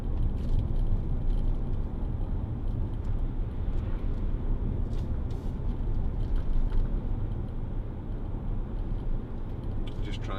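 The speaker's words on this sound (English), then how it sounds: "And we are on a very bumpy road." A 2010 Land Rover Discovery 4 3.0 TD V6 drives over a very bumpy road, with a constant low road rumble and loose rattling and jangling from the cabin throughout.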